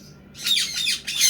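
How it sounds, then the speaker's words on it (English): A Quaker parrot gives a run of three harsh, loud squawks close by, each a bright, raspy burst with brief gaps between them. "Rocker's my Quaker Parrot."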